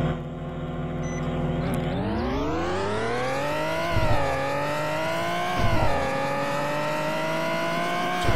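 A loud, steady engine drone with rising and falling pitch as a car in the game Greenville revs and shifts gears, continuous and close with no talking.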